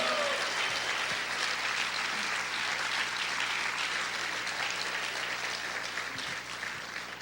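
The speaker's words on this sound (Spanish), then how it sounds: "¿Cuántos les pueden dar ese aplauso fuerte a tu Dios y a tu Señor?" A church congregation applauds loudly at a service, a dense steady wash of clapping that fills the whole stretch and eases slightly toward the end.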